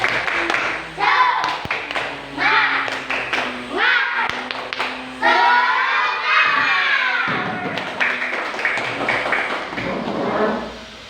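Schoolchildren in a classroom clap in rhythmic bursts for a 'tepuk semangat' chant, their shouted voices rising and falling between sharp claps.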